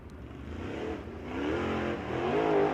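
A sprint car engine revs and accelerates at Attica Raceway Park during a qualifying session, a loud sustained roar that builds in pitch and intensity across the clip.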